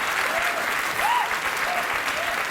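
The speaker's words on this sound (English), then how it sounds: "I don't know why you would applaud that." A TV studio audience applauds steadily, a dense wash of clapping at even volume with a few faint whistles over it.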